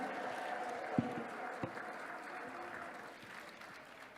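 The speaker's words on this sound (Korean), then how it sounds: "다시 한번 감사의 박수를 보내주시면 고맙겠습니다" An audience applauds after a pastor's speech at a patriotic rally, a steady, fairly faint wash of clapping from a crowd that sounds some distance away.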